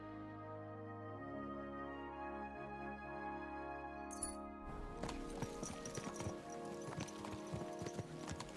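Horse hooves clip-clop in Kingdom Come: Deliverance II, a steady run of near, fairly loud hoofbeats that starts after a quiet musical passage.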